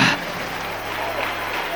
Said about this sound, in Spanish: Dele ese aplauso al Rey en esta mañana.